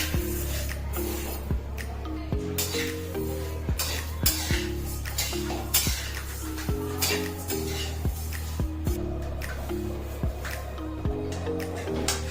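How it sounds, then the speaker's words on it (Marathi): Coriander seeds roasting in a pan over a low flame for Kolhapuri masala, with a steady dry rustle and repeated sharp scraping and clinking as they are stirred, close and moderately loud, with background music. "छान मंद आचेवर धणे भाजून घ्यायचे."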